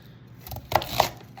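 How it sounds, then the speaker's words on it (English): A knife chops vegetables for a cashew nut stir fry on a cutting board, giving two close, crisp knocks about a quarter second apart against a quiet kitchen background. "kind of just chopping these up like this."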